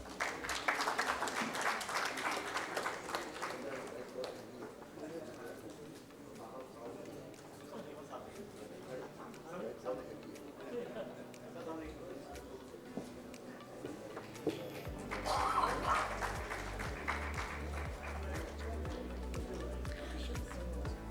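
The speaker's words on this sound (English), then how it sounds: "Please welcome him with a round of applause." An audience claps steadily to welcome a speaker at a corporate session, with continuous applause and a brief louder swell near the end.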